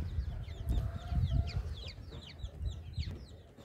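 Young chicks, including bare-necked ones, pecking around outdoors in a flock: quiet overlapping cheeps and soft clucks, several birds at once, fairly close and continuous with no talking.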